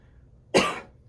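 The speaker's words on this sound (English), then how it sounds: "coughing here or there." A single harsh cough from a person who is sick, close to the mic and heard on its own against a quiet background.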